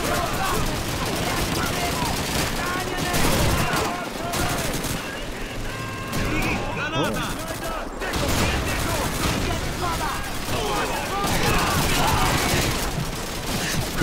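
Machine gun and rifle fire from the video game Call of Duty 2 rattles in dense bursts with explosions, loud and continuous, while someone talks over the battle.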